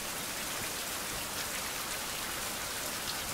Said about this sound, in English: it's raining hard right now